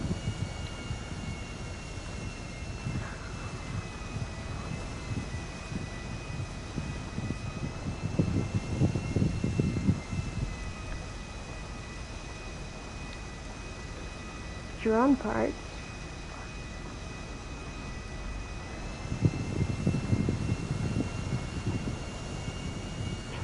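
An airplane engine in GTA V Online gives a constant droning hum with a thin steady whine, running under occasional bursts of talk and a brief chirping sound midway.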